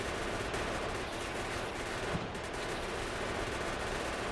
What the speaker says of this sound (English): I have also upgraded the shooting speed, so this is even more rapid fire now.